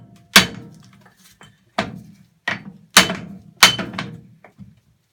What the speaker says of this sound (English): So we're just going to knock it back with the hammer.